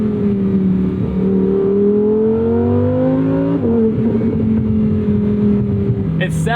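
A 2024 Lamborghini Huracan Sterrato's naturally aspirated V10 revs loud and close, its pitch climbing steadily toward redline, dipping briefly at a shift, then pulling on again, with a faint voice underneath.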